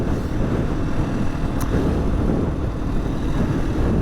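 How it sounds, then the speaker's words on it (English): Wind buffeting across open moorland at Rudland Rigg, a steady loud rushing roar with gusty low rumble, continuous throughout with no voices. "Very breezy."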